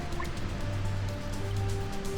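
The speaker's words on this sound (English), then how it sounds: "now we've got a waterfall, which makes a lot of noise" A waterfall in the Minecraft-based TechNodeFirmaCraft modpack, a steady, dense rush of falling water with faint drips, continuous and fairly loud, no talking.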